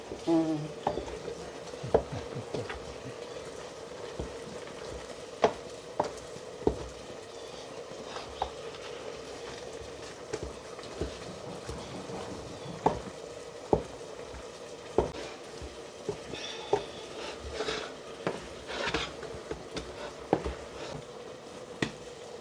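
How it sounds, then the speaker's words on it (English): Mukimo, a mashed potato and greens dish, frying in a pan in an African village kitchen: soft low sizzle with scattered scraping and tapping from stirring, quiet and steady throughout. "That's how you fry your mukimo."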